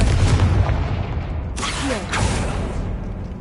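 Confringo fire-blast spell cast in a Harry Potter-style video game, a deep booming blast that rolls on with a second whooshing burst midway, loud and continuous with no talk.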